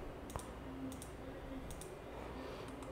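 Computer keyboard and mouse clicks while searching for a component in a board layout, faint sparse clicks spaced irregularly over a low background hum, with no talking.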